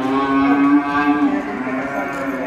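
A Texas Longhorn cow at a cattle show in Llano, Texas, gives one long, loud, close moo that holds steady and then tapers off.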